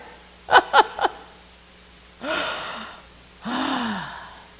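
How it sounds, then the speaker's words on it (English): Three short sharp inhales followed by two long, audible exhaled breaths, close and clear against a quiet background with a faint low hum, no speech. "Take a deep breath."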